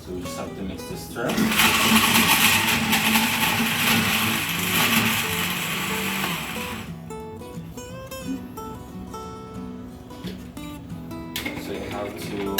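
A kitchen blender whirs loudly while mixing a chicken ball mixture, steady churning for several seconds, then the motor slows and stops as a voice talks over it.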